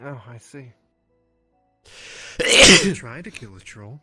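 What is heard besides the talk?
sneeze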